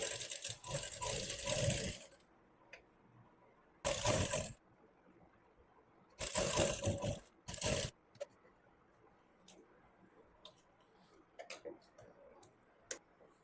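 Sewing machine stitching lace onto fabric for a V-neck garment in three short runs of rapid ticking, with quiet pauses and light clicks between them.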